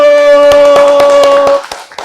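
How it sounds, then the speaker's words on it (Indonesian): Students in a classroom clap in a quick, even rhythm, about eight sharp claps close by, while a steady held tone runs over them before stopping near the end. "Tepuk tangan untuk kelompok 1."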